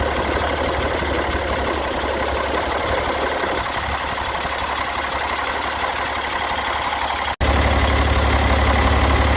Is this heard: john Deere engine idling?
yes